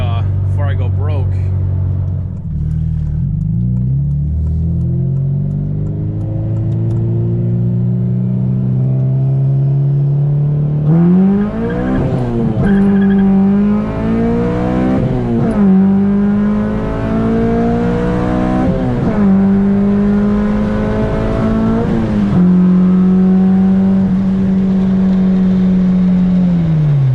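A Honda Civic Si engine rises through repeated hard revs, climbing in pitch and snapping up sharply as it hits VTEC, loud and close from inside the car, with someone talking over parts of it.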